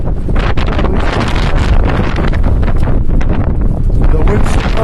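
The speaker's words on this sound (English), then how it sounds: "The wind's supposed to keep up for a while" Strong wind during a snowstorm in America, a loud, constant buffeting roar hitting the microphone with gusty rumble throughout, close and dense.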